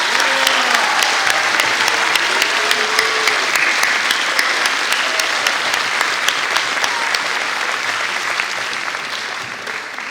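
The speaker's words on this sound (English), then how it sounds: "Can we have one last round of applause for these class of 2030?" A large crowd applauds steadily for about ten seconds at an elementary school sixth-grade recognition ceremony, the clapping dense and loud, with a few faint voices and cheers underneath.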